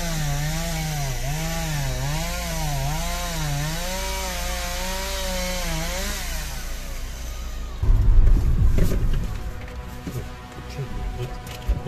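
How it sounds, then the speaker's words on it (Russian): Chainsaw cutting fallen trees blocking an off-road track at dusk, a steady loud engine drone with wavering revs, then a rougher burst of cutting noise toward the end. "Приходится на обратном пути пилить деревья."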